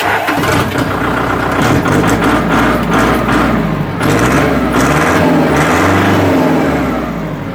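A used farm tractor's engine runs loudly and close by, a steady heavy idle with a rough mechanical chug that keeps going without a break.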